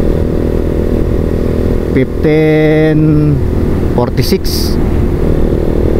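A Vperman 150 motorcycle fitted with TMX155 clutch parts runs a top speed test on a straight road, giving a loud, steady engine drone. A rising rev or horn-like tonal burst sounds near the middle, while someone talks over it.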